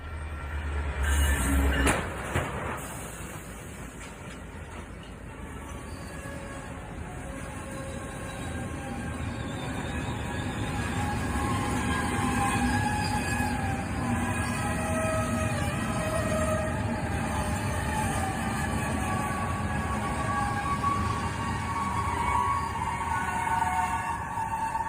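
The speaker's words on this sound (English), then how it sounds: "The train was like a hot knife through butter. It sliced the truck in half" A train crashing into a semi truck loaded with bottled water at a street intersection, beginning with a brief loud impact and then a long steady rumble of rail cars rolling past at a distance.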